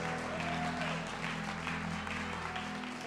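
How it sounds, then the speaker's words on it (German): Church congregation clapping in praise, a continuous moderate wash of applause layered over sustained worship music chords. "Lasst uns Gott mal noch mal einen großen Applaus geben"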